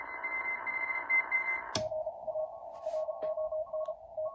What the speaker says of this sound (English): Without the filter, you got a lot of signals in there.